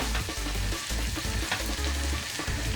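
Almonds toast in a dry pan with a close, loud, continuous crackle and hiss, while a utensil stirs them briskly and rattles them against the pan.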